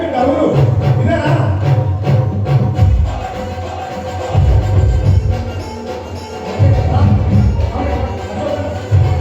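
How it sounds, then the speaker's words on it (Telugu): Dense crowd noise fills an outdoor felicitation ceremony, sustained clapping and cheering swelling in several loud waves with voices mixed throughout. "చప్పట్లు కొట్టాలి."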